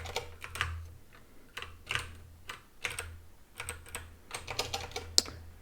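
Close, quiet typing on a computer keyboard during a live coding session, with irregular bursts of key clicks separated by short pauses and no talking.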